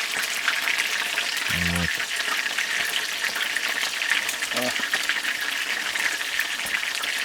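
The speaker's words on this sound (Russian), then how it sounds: "Всех налимов, которых мы поймали, мы жарим." Burbot frying in a pan, a steady crackling sizzle of hot oil running throughout at close range, with brief low thumps of handling and a short spoken word.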